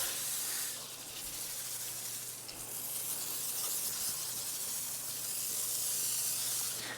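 Bug remover spraying onto a Tesla Model 3 during a deep clean: a steady, close hiss of spray that runs for the full seven seconds with little change in level, under a low constant hum and no talk.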